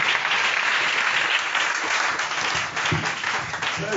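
A church congregation at a Sunday service applauds loudly for Jesus, sustained dense clapping from many people filling the room for the whole stretch, with faint voices mixed in.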